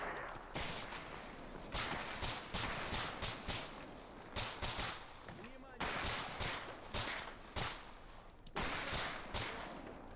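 Gunfire in STALKER near the Chernobyl reactor: repeated loud bursts of automatic shots crack in close succession, with dense battle noise filling the whole stretch.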